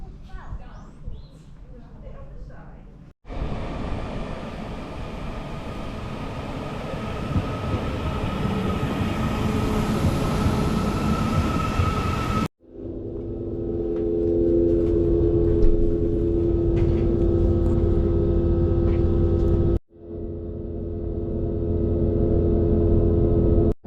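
A passenger train arriving at Chorley station in Lancashire rumbles and hums steadily, rolling through with rail noise that shifts abruptly in tone as it slows; no clear voices.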